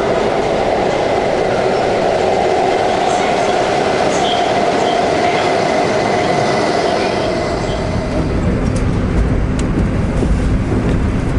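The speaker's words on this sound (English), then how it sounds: "So here I am on the train." Interior of a Chinese high-speed train in motion, with a steady loud rumble and rushing hiss filling the whole stretch, the tone dropping slightly near the end.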